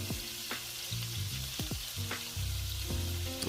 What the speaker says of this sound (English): Now we're going to begin to saute our shrimp.